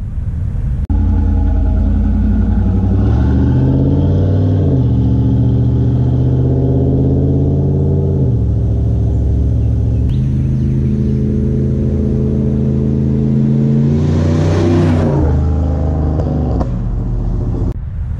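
A 1993 Chevy Camaro Z28 with a Flowmaster exhaust system revs repeatedly, its deep rumbling idle swelling into loud, throaty blips and then settling back, heard up close with no talking.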